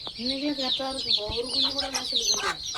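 Chicks and a hen in a poultry cage, with dense high peeping and repeated clucking calls overlapping continuously at close range.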